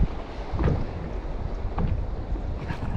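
Strong wind buffets the microphone while someone fishes in shallow water, a loud, rough, gusting rumble that goes on throughout with no voice.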